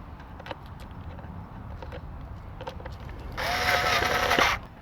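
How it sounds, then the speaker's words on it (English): A screw being driven in while a Black and Decker string trimmer is assembled, with faint clicks and handling knocks followed by a short, brighter whirring burst near the end, close and fairly quiet. "Once that goes in, put the screw in, lefty loosey, righty tighty."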